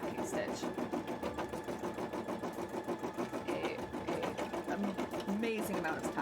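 An embroidery machine sews tacking stitches in a steady, rapid mechanical rhythm that runs the whole way through, moderately loud, with people talking over it.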